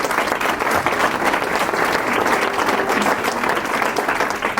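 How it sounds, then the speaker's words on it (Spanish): Audience applause at a commemorative tribute event, a steady dense clapping from a crowd that fills the whole stretch at even loudness with no one speaking over it. "Así que Ana Rebeca, mil gracias y un aplauso por tu trabajo."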